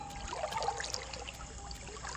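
Floodwater in a submerged barangay in Carmen trickles and flows faintly and steadily, with soft splashy bubbling spread across the moment.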